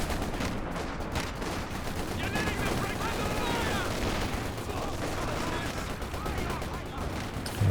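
Dense artillery barrage and small-arms gunfire from a Company of Heroes 2 multiplayer battle, continuous overlapping booms and rattling shots forming a loud, unbroken roar of combat.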